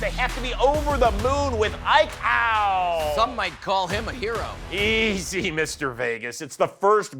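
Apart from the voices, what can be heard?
No everyday noises stand out.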